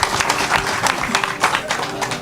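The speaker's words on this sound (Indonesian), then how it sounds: "Sip, tepuk tangan." Audience applause at an Indonesian talk, brief scattered clapping from a crowd with some voices mixed in.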